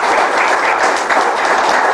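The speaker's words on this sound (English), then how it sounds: "please give her a round of applause" Audience applause at a Dallas Peace Center gathering, a dense, steady wash of many hands clapping that stays loud and continuous throughout, with no talking over it.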